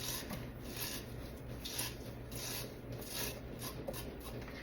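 Creamed corn being scraped off fresh corn cobs, downward into a pan, by hand. The rasping strokes repeat in a quick, even rhythm at close range, with no talking.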